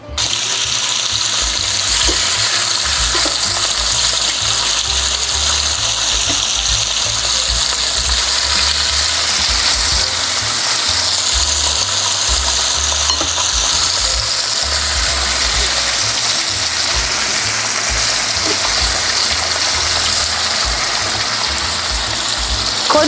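Steak sizzles and fries steadily in a hot, smoking pan over medium heat, a dense, continuous crackle that stays loud and close throughout with no talking.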